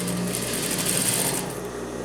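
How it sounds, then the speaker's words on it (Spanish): A sewing machine stitches trouser fabric with a fast, steady mechanical whir and rattle, close and continuous for about two seconds without any talking. "Igual con nuestra guía de costura, cosemos."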